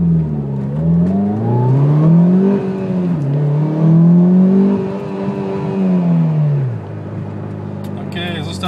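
A car pulls away from a green traffic light, the engine revving up through several gears with rising and falling pitch, loud and close, then easing to a steady cruise; a person talks over it.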